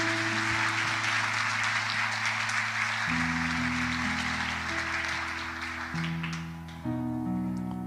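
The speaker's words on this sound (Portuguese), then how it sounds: "Você pode aplaudir o Senhor?" A church congregation claps steadily in a broad wash of applause, sustained throughout over held organ or keyboard chords that shift pitch partway through.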